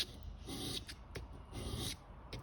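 Close, gritty scraping of a knife edge drawn across the stone of a KME sharpening system, several long back-and-forth strokes at an even pace, each ending with a short tap.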